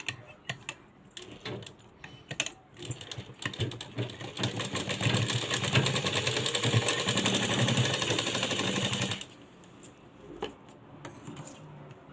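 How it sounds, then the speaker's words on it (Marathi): A sewing machine runs a double line of stitching through fabric for a latkan, with short rattling bursts building into a continuous loud mechanical whir for several seconds, then stopping into quiet. "इथं शिलाई मारून घ्यायची आहे पॅक एकदम डबल शिलाई मारायची आहे"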